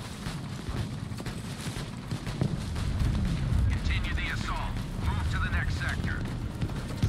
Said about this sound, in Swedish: Fienden skjuter på oss.